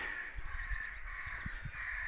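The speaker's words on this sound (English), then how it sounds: "You can hear the crows and rooks." Crows and rooks cawing outside a country church in Cornwall, several harsh calls heard at a distance over a steady outdoor background.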